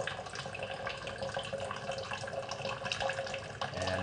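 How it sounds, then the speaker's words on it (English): Water runs from a tap turned back up a little stronger, a steady, moderately quiet gush and splatter with small fluctuations and no speech. "So I'm going to turn the water back up to what it was before"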